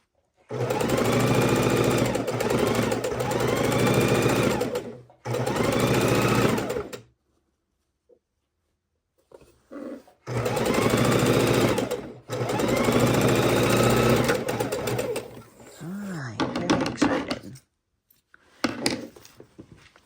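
Electric sewing machine stitching fabric pieces for an easy four-fabric quilt, running in loud steady bursts of rapid needle chatter separated by pauses, with brief handling noises between runs.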